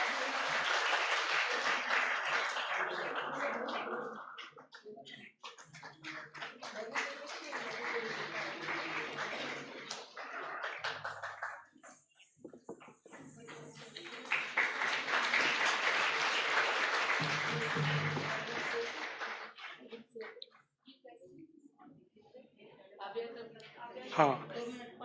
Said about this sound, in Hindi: हम थोड़ा ताली बजा के अपना खुशी का इजहार करें